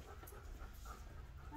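A dog pants steadily in quick, breathy rhythm, quiet and close, with no talk over it.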